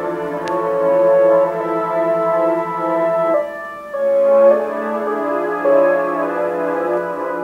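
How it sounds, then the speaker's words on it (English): Synth pads hold a low pulsing chord while a thin lead melody line plays brief sustained notes above, shifting chords midway, no talking. "So the synth part and the melody line sound like this."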